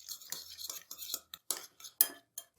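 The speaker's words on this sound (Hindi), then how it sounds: "अब ये सारे स्पाइसेस हम मिक्स करेंगे।" Dry spice powders, chilli powder, crushed red chilli and salt, being mixed with a spoon in a bowl, giving a string of close, brief scraping and clinking strokes with short pauses between them.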